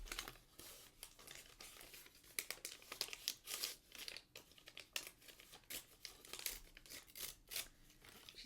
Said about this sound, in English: Did you see how nice that tore?